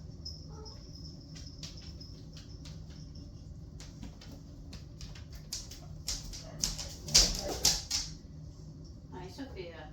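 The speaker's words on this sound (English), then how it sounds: "One of our dogs telling us it's time for her SUPPER, but it's not yet." A dog whimpers and yips for her supper in a home kitchen, with thin high whines recurring through the stretch and a louder burst of whimpering near the end, over quiet background hum.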